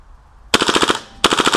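An Umarex-KWA HK MP7 gas blowback airsoft gun fires two close, sharp full-auto bursts of about six to seven rapid snapping shots each, with a short pause between, no talk.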